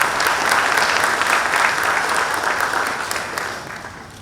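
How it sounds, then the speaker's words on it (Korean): An audience gives warm applause at the inauguration ceremony for the new NC Dinos baseball manager Lee Ho-jun; steady, close crowd clapping holds strong, then thins and fades toward the end. "따뜻한 박수로 청해주시면 감사하겠습니다"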